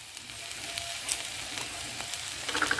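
Boiled bhetki fish being stirred in a frying pan, a steady soft sizzle with faint scraping taps of the spatula throughout, close and fairly quiet, no voices.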